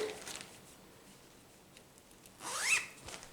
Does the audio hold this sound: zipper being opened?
yes